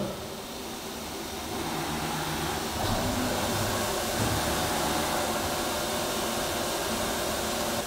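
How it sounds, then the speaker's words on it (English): A milling machine with a carbide cutter air cutting before it reaches AR500 hard steel gives a steady, broad whirring drone that swells slightly partway through and then holds level. "As you can tell, it's doing a fine job air cutting."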